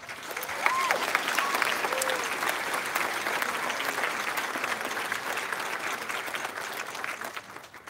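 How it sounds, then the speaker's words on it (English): Audience applause at a 2018 Priory Upper School graduation ceremony, a steady sustained wash of many hands clapping for the full stretch, fairly even in loudness, with faint crowd murmur underneath. "I'd like to give another round of applause for everyone here"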